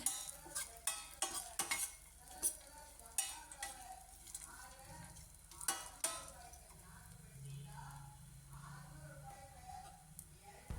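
Dry fruits roasting in a pan, a spoon scraping and clinking against the metal in repeated stirring strokes over a faint sizzle, close and quiet.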